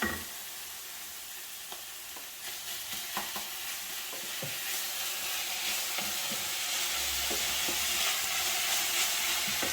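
Tomato drops into a hot, slightly dry pan for a spaghetti stir-fry, bursting into a loud sizzle that steadily builds, with scraping and stirring of a utensil in the first few seconds; no speech.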